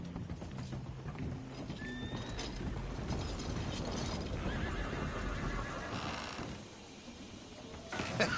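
A horse in the Red Dead Redemption 2 video game neighs loudly, with clip-clopping hooves and mechanical ratcheting and creaking from tack or a wagon, at close range.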